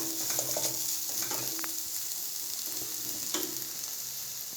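Coriander chutney ingredients sauté in a pan, giving a soft, continuous sizzle with scattered scraping and stirring clicks close by, and nobody speaking.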